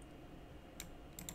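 A few light clicks of keys pressed on a computer keyboard, a brief single tap followed by a quick pair, faint over a quiet room hum.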